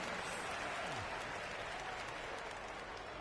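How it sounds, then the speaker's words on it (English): Crowd noise fills an arena after a home victory in a simulated Cyber Euroleague basketball game between Dubai BC and Asvel. The cheering sounds faint and steady, a continuous wash of applause and roar with no break across the moment. "So the home crowd happy here as they get the victory."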